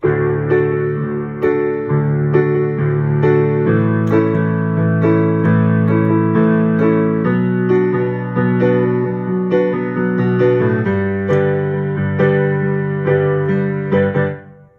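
Piano chords played with both hands ring out in a slow, steady progression, sustained and fairly loud, with no voices.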